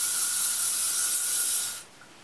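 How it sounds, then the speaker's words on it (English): Aerosol hairspray hisses onto styled hair for a boho braid in one steady, close burst of about two seconds, then cuts off. "The first thing I like to do is hairspray it."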